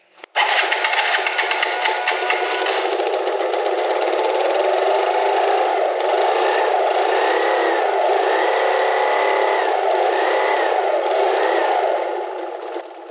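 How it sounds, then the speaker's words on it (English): A Yamaha YZF50 50cc quad on its factory exhaust starts up and runs steadily for over twelve seconds, a buzzy, moderately loud engine drone with a few light revs, no talking. "let's fire the quad up with the factory exhaust"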